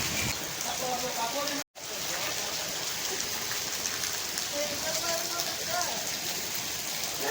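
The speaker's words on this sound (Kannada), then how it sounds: "ಇಲ್ಲಿ ನೋಡ್ರಿ ಮಳೆ ಹೆಂಗೈತಿ" Steady heavy rain pours down with a dense, even hiss close by, briefly cutting out for an instant, with faint voices beneath the downpour.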